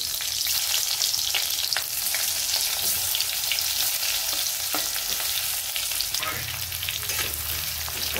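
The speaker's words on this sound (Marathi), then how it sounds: "आता हे कारले भरलेले तेलामध्ये सोडून द्यायचे" Stuffed bitter gourds (karela) dropped into hot oil with mustard seeds in a kadhai, a steady, bright frying sizzle with faint stirring clicks throughout, close and even in level.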